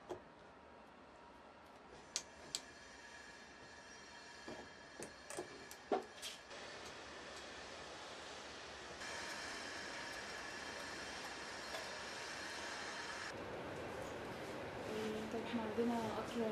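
A Cairo metro train driven by a woman operator moves along with a steady mechanical hum, scattered clicks and ticks, and a louder rolling stretch in the middle, while people talk quietly over it.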